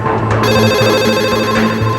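Telephones ringing in an office phone line, several electronic ringtones overlapping in a loud, continuous warble with repeating pulsed tones.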